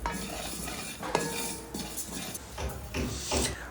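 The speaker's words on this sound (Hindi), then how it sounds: "इन तीनों को थोड़ा सा मिक्स करेंगे" A spoon scrapes and clinks as fenugreek, coriander and nigella seeds are mixed in a bowl, giving short gritty rustles and taps, close and fairly soft, with no talking.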